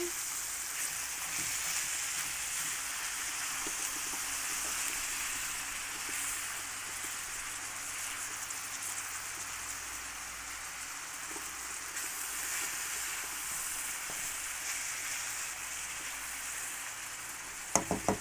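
Steady crackling sizzle of grated carrot and other vegetables frying in a pan, continuous and close, with a couple of sharp clicks right at the end.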